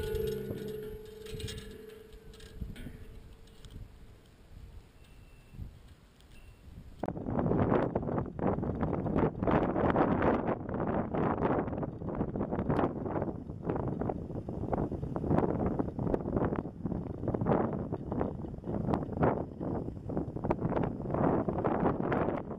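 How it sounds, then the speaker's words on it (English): Strong wind buffets the microphone outdoors at a long-range rifle range, a dense, loud rumbling roar that rises sharply partway through and then continues in gusting bursts. "That was a lot more wind than we'd hoped for this morning"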